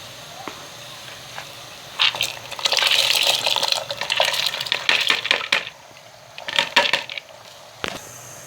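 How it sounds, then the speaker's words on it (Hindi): Dry moong and masoor lentils pour into a pot of boiling water, a clattering, rattling rush of grains hitting the water and metal, in bursts over a low bubbling background. "हमारा पानी उबल रहा है। अब हम इसमें दाल शामिल कर लेंगे।"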